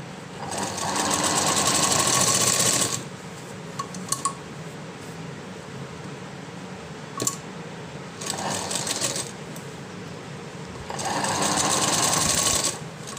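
A sewing machine stitches a floral frock in three rapid whirring runs, close and loud, separated by quiet pauses with small clicks of handling the cloth.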